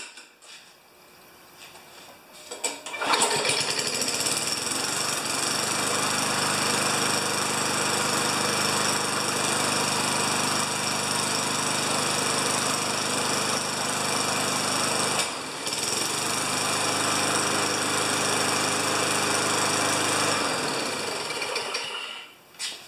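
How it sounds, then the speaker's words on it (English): An old Rally electric-start walk-behind lawn mower, about 29 years old, runs steadily after starting, its small engine droning loud and close for about twenty seconds with a brief dip midway before shutting down. "I'm gonna start this old mower up for the last time"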